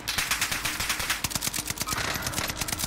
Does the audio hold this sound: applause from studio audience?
no